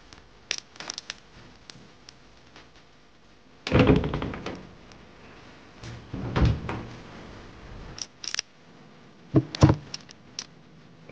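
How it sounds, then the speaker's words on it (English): Inside a home, doors are handled on the way to a bedroom, with scattered close knocks and latch clicks and several louder thuds and slams between quiet stretches and no speech. "I had to go through about two doors to get here"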